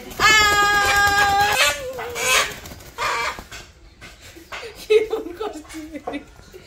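Chickens cluck and call in a Bangladeshi village yard. The nearby bird sounds mingle with people talking throughout.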